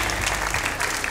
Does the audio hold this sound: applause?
yes